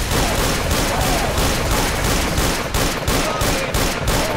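Gunfire in the game Left 4 Dead 2: loud, continuous rapid shots in a dense, rhythmic barrage that never lets up for the whole stretch, with no talking.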